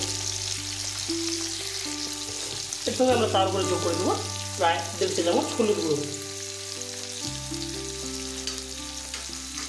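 Chicken liver frying with spices and tomato on a tawa, a continuous close sizzle running beneath a voice speaking through the middle of the clip.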